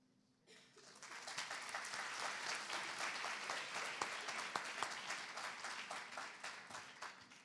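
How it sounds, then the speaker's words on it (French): Sustained audience applause at a conference session, dense even clapping rising quickly, holding steady for several seconds, then thinning slightly toward the end. "les applaudissements étaient bien nourris"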